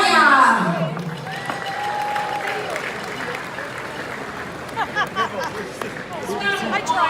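A crowd at an annual business achievement awards gala in Vaughan applauds and cheers as a speaker is welcomed to the stage, with sustained clapping and crowd noise under an announcer's amplified voice.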